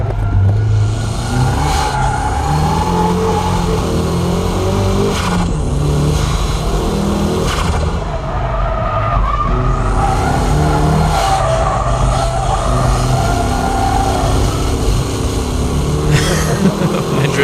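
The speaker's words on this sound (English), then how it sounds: "My drifting is a bit wild" A drifting car drives close and loud with steady engine revving throughout. Tire squeal and skidding run under the engine noise and swell and fade as it slides. No one speaks.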